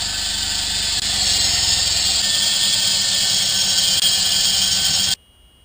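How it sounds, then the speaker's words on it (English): A power tool cuts down the mast step of a land yacht, a steady, loud, high whining squeal that runs continuously before stopping abruptly near the end. "now we're going to cut the mast step down and fit some reinforcement into the mast"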